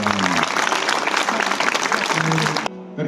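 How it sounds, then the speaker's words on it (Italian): Audience applause at a theatre event during a cultural week in Cammarata, Italy: dense, steady clapping from a sizeable crowd that fills nearly three seconds before cutting off abruptly, with a voice starting right after. "Alessandra, un bellissimo applauso"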